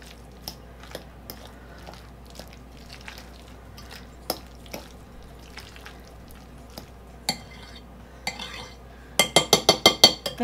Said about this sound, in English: Get that stirred up.